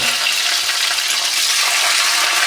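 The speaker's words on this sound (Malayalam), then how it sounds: "ഇപ്പോൾ കടുക് നല്ലോണം പൊട്ടി വന്നിട്ട് അതിലേക്ക് പിന്നെ വെളുത്തുള്ളി അതേപോലെ തന്നെ കറിവേപ്പില ഇട്ട് കൊടുക്കുക" Garlic and curry leaves fry in hot oil with already-popped mustard seeds, a loud, steady, close-up sizzle with a bright hiss that carries on without a break.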